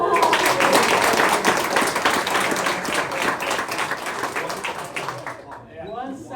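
A crowd at a flag football awards party applauds with dense, loud clapping that carries on for several seconds before tapering off, followed by a brief voice.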